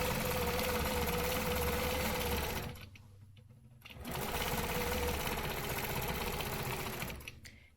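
A sewing machine stitches quarter-inch quilting lines in a loud steady whir, stops for about a second, then runs on again at an even speed.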